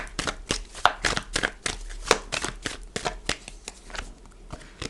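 Tarot cards are shuffled by hand in quick, crisp riffling bursts that keep a steady, irregular rhythm for several seconds, heard close and fairly quiet.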